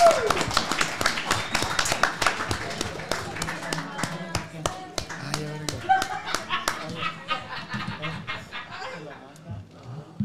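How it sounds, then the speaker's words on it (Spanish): A small studio audience at a podcast taping gives a round of applause for a guest, with sharp separate claps in a quick, uneven patter that slowly thins out, and voices mixed in. "Un aplauso para el camarada, por favor."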